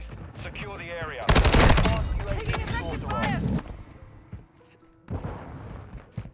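Automatic gunfire from Modern Warfare 2 multiplayer, an STB 556 rifle among it, bursts loud and dense in the middle, then falls back to scattered shots with game voice lines over the top.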